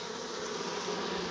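Bees inside an island-mating Cordovan F0 queen beehive in late August make a steady, dense buzzing hum, close and constant, with no talk over it.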